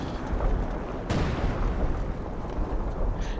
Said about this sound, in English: Let's watch my artillery fall here.